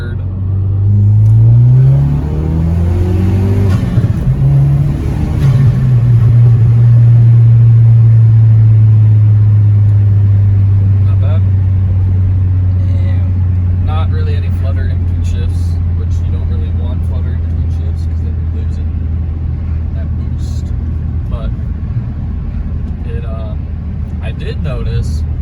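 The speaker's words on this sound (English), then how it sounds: "We'll do a little pull to show what it sounds like once you get into the higher RPMs." A Ford Focus RS fitted with a GFB DV+ recirculating diverter valve accelerates hard from second into third gear, its engine rumbling loud and close as revs climb, drop at the shift and then hold a steady drone.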